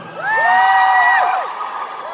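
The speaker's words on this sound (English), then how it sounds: "Give us a cheer if you are a cosplayer in Ghosts right now" An audience at a BBC Ghosts panel at MCM Comic Con London 2023 lets out a loud, whooping cheer that swells quickly, holds for about a second and then fades into crowd murmur.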